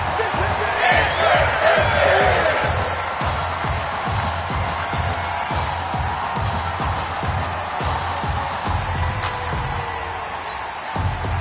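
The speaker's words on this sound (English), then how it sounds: "Sounds like this crowd is ready for some tug of war." A stadium crowd in a football video game roars and chants in a steady rhythmic pulse, loud and continuous, while commentary voices talk over it.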